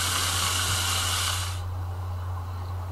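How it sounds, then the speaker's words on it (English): Deep fryer in the game Wack the Terrorist, a loud broadband sizzling hiss that runs steadily for about a second and a half and then cuts off, leaving a low hum underneath. "Let's go kill this guy with the deep fryer."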